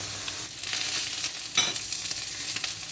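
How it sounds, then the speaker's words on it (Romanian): Bacon and sausages fry in a pan for an English breakfast, a steady close sizzle with crackling pops and a few brief louder spatters, no voices. "în continuare vom prăji baconul și cârnăciorii"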